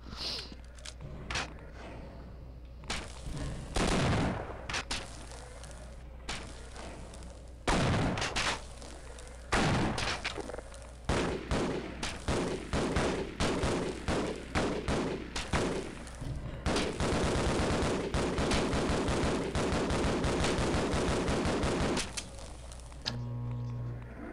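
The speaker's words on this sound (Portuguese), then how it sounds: "Já gastei um monte de tiro tentando matar aqui, e não deu." Gunfire in the video game Half-Life: repeated loud bursts of shots with stretches of rapid fire and short pauses between volleys, running through the whole stretch.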